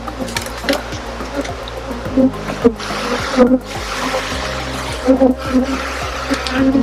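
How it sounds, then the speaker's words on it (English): Welsh black honey bees buzz around an opened hive on a poor-weather day, a dense, continuous drone with scattered nearby passes, mixed with intermittent thumps and handling noises close by. "So smoking the bees off, you can see these Welsh black bees are quite aggressive today, weather's not the best."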